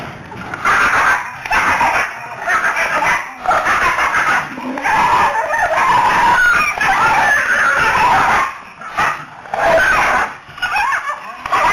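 Stray dogs bark in a residential area of Maranchery panchayat, a pack of repeated, overlapping barks in irregular bursts, fairly close and loud with brief pauses between volleys.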